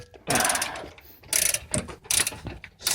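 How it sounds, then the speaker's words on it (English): A wrench ratchets while loosening a bolt on an Airrex air suspension height adjuster of a Mitsubishi Lancer Evolution, in three close, rapid clicking bursts separated by short pauses. "I'm spinning there and the wrench is stuck there, so you can just keep on going"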